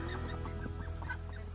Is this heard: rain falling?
no